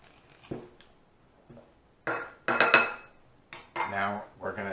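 Pierogi dough ingredients being mixed together in a bowl, a few scattered clinks and scraping bursts of utensil against dish, close and fairly quiet with pauses between.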